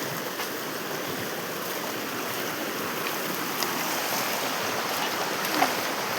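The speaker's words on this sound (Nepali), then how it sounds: "खोला त यस्तो राम्रो चल्छ कल बगेको खोला" Steady rushing water from a flowing stream beside a rural Nepali village path, close and continuous with an even broadband wash and no voices.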